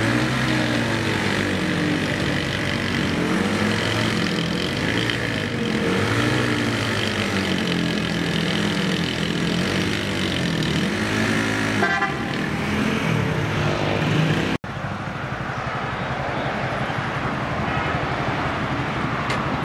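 Two 70cc motorcycles, a Unique 70cc 2018 and a High Speed 70cc, strain against each other in a tug-of-war contest. Their engines hold a loud, sustained, revving drone that cuts off abruptly near the end.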